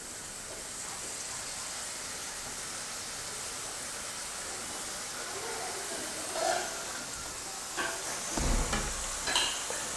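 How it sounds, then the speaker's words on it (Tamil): Continuous hissing sizzle of snack dough pieces frying in hot oil in a kadai, steady and close, with a few brief bubbling bursts and light clinks toward the end. "ரெடி பண்ணி வச்சுருக்கிற மாவு வந்து இப்போ ஒவ்வொன்றா எடுத்து எண்ணெயில் போட்டு பொரிச்சு எடுத்துக்கலாம்"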